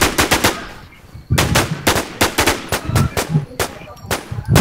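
Rapid automatic gunfire in The WarZ survival shooter game, loud close bursts of shots separated by short pauses, repeating through the whole stretch.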